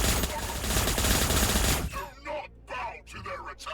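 Rapid gunfire bursts from Astra Militarum troops in Warhammer Battlesector, a dense continuous volley for about two seconds, then scattered softer shots with a voice speaking.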